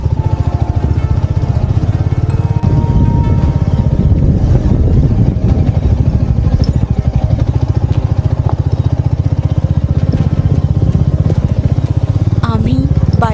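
A motorcycle crawls slowly over a rocky off-road track to Rajmachi fort near Lonavala in winter, its engine a loud, close, steady drone that pulses unevenly over the bumps the whole time.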